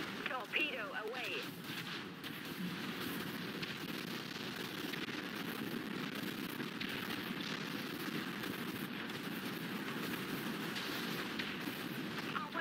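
Warship weapons and torpedoes fire in the Dreadnought video game as a continuous rumbling barrage of booming, crackling blasts, steady and dense throughout, with a faint voice briefly audible under it.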